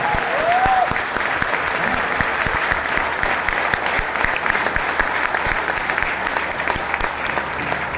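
Audience at a sales presentation claps loudly and steadily throughout, a dense wash of many hands with no speech over it.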